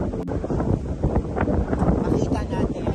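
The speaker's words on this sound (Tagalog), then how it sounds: "Ang sarap ng hangin!" Outdoor wind buffeting the microphone in loud, uneven gusts and rumbles on a hillside with a mountain view, mixed with a person speaking over it.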